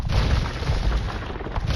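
Cannon galleon fire in an Age of Empires II naval battle, heard as a dense low booming rumble with overlapping blasts that lasts the whole short moment and has no voices over it.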